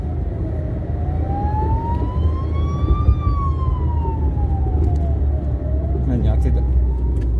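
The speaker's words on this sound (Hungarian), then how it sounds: "A mentő az jön attól függetlenül." An ambulance siren wailing in a slow rising and falling sweep, fairly close and loud over steady traffic rumble, with brief clatter near the end.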